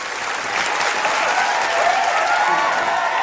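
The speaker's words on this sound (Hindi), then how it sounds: "जोरदार तालियां सारे कंटेस्टेंट्स के लिए।" A studio audience for a comedy show claps loudly and steadily for the contestants, a dense burst of applause lasting a few seconds.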